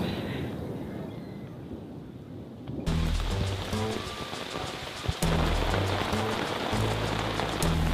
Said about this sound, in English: the rain's torrential